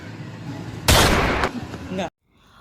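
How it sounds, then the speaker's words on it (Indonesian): A single loud gunshot rings out in a short drama film. The sharp, close blast decays with a rumbling tail for about a second, then the sound cuts abruptly to near silence. "Wira menembak Wijaya hingga tewas."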